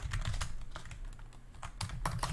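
Fingers type on a computer keyboard in a quick, irregular patter of close, faint key clicks with no voices.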